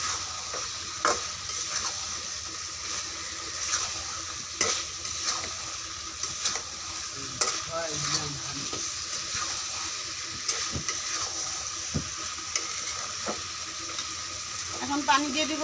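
Chicken curry with fried potatoes stirred and sautéed in a pan on a gas stove, a steady sizzle with repeated scraping stirs and clinks throughout, fairly close.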